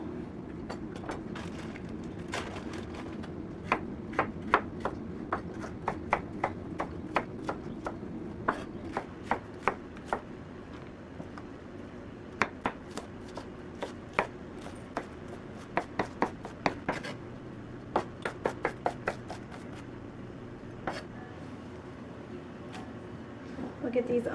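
A knife chops onions on a cutting board in quick, irregular bursts of sharp close taps with short pauses between runs, over a soft background hum.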